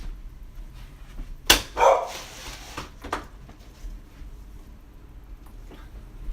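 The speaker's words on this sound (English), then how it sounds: "I think my dog is just going nuts." A dog barks two or three times, fairly close and sharp, with short gaps between the barks in an otherwise quiet indoor room.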